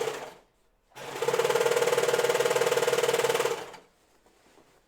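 A serger sewing machine runs in a single burst of about two and a half seconds, a fast, even mechanical whirr close by, with quiet before and after.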